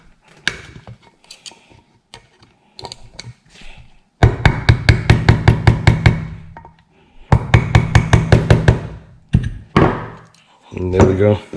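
A nylon mallet taps a punch to drive a pin during disassembly of a Kimber Ultra Carry II pistol, giving sharp, close knocks in two quick rhythmic bursts with scattered lighter taps around them.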